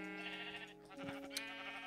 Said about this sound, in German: Nämlich ein Schaf mit einem Hut.